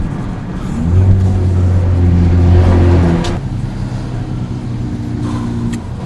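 A Nissan Nismo Z sports car drives along a road. The engine holds a steady low drone that swells for a few seconds and then settles under cabin road noise.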